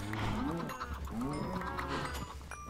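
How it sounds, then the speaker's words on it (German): Burning cows in the Minecraft video game moo in a few drawn-out, rising calls, clear and close, with low game ambience behind them. "Hier laufen ein paar brennende Kühe ein bisschen rum."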